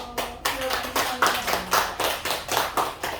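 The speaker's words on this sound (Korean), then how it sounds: "그분께 박수" Korean church congregation clapping in unison during a sermon, a loud, steady rhythm of sharp group claps roughly twice a second, with faint voices mixed underneath.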